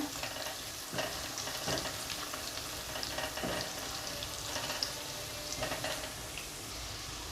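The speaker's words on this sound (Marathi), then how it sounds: "आता यामध्ये ही मी ही फरसबी घालून घेते एक वाटी फरसबी आहे छान अशी परतून घेऊया" Green beans sauté in an oil-filled pan for vegetable fried rice, giving a continuous hiss and sizzle broken by occasional stirring scrapes, close and steady, with no talking.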